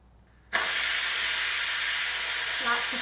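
Pressure cooker steam blasting out on quick release: after a short quiet moment a sudden loud, broadband hiss kicks in and holds steady and close until the end.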